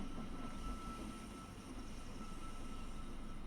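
A train arriving at a station in the strategy game They Are Billions, a low steady rumble of rolling rail cars with a faint hiss, fairly quiet and even throughout, with no voices.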